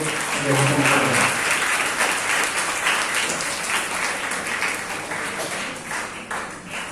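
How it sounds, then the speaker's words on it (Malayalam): A school function audience gives a sustained round of applause, a dense wash of many hands clapping that starts loud and slowly tapers off over about seven seconds. "നല്ലൊരു കൈയടി"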